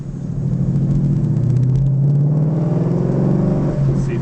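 Car fitted with a Corsa sport exhaust and H-pipe accelerating, heard from inside with a window rolled down, a loud deep muscle-car rumble whose pitch climbs steadily then eases off.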